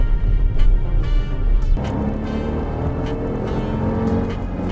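A small car engine drones steadily while driving, with a low, slightly rough hum and a shift in tone partway through; no talking.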